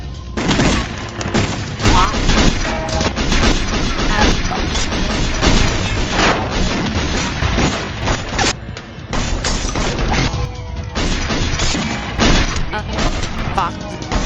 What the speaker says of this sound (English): A gunfight breaks out, and Jacob stops the shooters before.